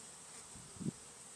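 Honey bees hum faintly inside a modified 8-frame Payne's poly hive, a low steady drone with one brief louder buzz passing close, over a constant background hiss.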